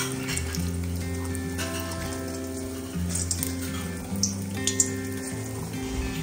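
Food frying in a pan while a home-cooked Diwali meal is prepared, a steady close sizzle running throughout with faint clinks and kitchen water sounds mixed in.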